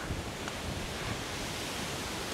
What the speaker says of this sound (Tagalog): Ayan na, lakas ng ulan.